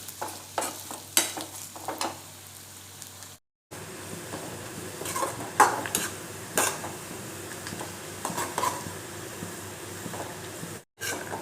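Ginger frying in a pan over a low flame, a soft steady sizzle with scattered stirring scrapes and light clinks of a utensil against the vessel, fairly quiet and close.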